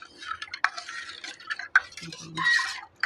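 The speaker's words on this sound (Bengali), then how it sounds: "ভালো করে গুলিয়ে নেব যতক্ষণ না চিনিটা গলে যাচ্ছে" A spoon stirs water with cumin and sugar in a vessel for watermelon juice, giving close, brisk scraping and clinking strokes over about three seconds, busier toward the end.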